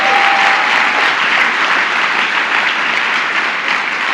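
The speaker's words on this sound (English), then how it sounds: "Give them a big round of applause." Steady, dense applause from a large audience at a women's equality luncheon, loud and sustained at one level throughout with no talking over it.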